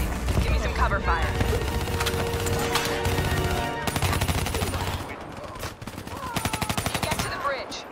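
Sustained automatic gunfire from a Call of Duty Black Ops 3 battle, rapid rattling bursts at mid distance with soldiers shouting under the shooting.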